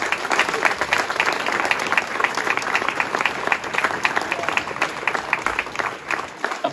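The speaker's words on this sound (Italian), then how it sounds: "un applauso enorme a loro" Sustained audience applause at the opening ceremony of the Italian 3D championships, dense steady clapping from a crowd that continues throughout without pause.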